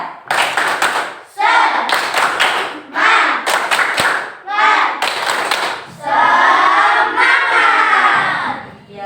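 A school class claps together in rhythmic bursts mixed with loud chanting voices, the claps close and sharp between shouted words.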